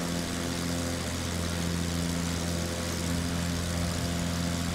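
An airplane takes off in a flight video game, its engine a steady, loud droning hum with a propeller-like buzz and no pause.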